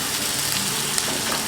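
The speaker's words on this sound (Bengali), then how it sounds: "হালকা লালচে করে একটুখানি ভাজবো, খুব বেশি ভাজবো না।" Onion frying in a pan makes a continuous close sizzle with soft crackles and the occasional faint clink, steady throughout and heard without any talking.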